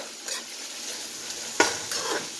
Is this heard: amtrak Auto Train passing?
no